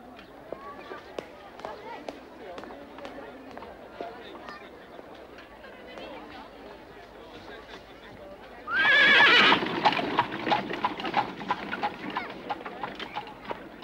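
Horses hitched to a waiting carriage neigh and clop their hooves in a period setting, a loud whinny bursting out midway amid steady hoofbeats, with birds and voices in the background.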